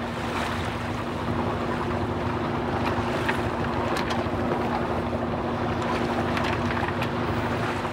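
A boat cruises eastbound through following seas in light wind in the Santa Barbara Channel, giving a steady, close rush of water and hull noise with a constant engine hum and some wind buffeting throughout, no voices.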